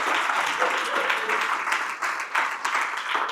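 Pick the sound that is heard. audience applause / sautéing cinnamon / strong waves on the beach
audience applause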